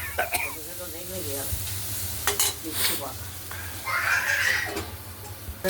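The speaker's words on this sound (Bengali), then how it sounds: "কুমড়ো উচ্ছেগুলোকে আরেকবার নেড়ে দিলাম" Thin slices of pumpkin and bitter gourd stirred in hot oil with mustard seed and chilli, a steady close sizzle with scraping strokes of the spoon, while a voice talks briefly and someone coughs.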